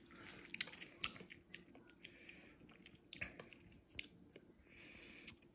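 Close, soft chewing and biting with small wet squishes and crunchy clicks while tasting a spicy beef jerky marinade of dry ingredients, wet ingredients and chili flakes, irregular bites spread over several seconds with no talk.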